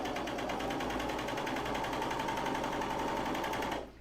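A serger sewing machine whirs fast and steady while stitching underwear fabric, a close, continuous mechanical buzz that cuts off abruptly at the end.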